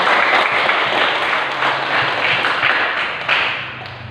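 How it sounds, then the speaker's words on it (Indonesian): A classroom full of students claps steadily for several seconds after a group discussion presentation, the applause fading slightly at the end. "Ya, tepuk tangan dulu."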